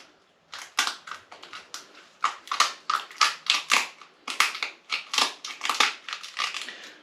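Kitchen shears crunch through a lobster tail shell in quick, loud, close snips and cracks, rhythmic bursts with brief pauses, no talking.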